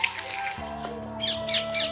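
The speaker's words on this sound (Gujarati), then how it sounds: "ચકલી બકલી બોલે છે ભાઈ." Sparrows chirp outdoors in a breezy spot, with a few sharp bursts of bright chirping rising late over a steady tone and a low background hum.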